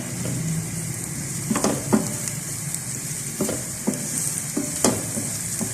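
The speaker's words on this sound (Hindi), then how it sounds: "अब इसमें प्याज ऐड करें। प्याज का कलर ट्रांसपेरेंट होने तक इसे फ्राई करें।" Onion fries in ghee in a cooking pan over medium flame, a steady sizzle punctuated by irregular clinks and scrapes of stirring against the metal.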